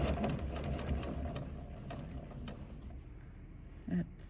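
A sewing machine stitches in the ditch along a quilt binding, a steady close mechanical whir with rapid needle chatter and a brief louder clunk near the end, and no one talking over it.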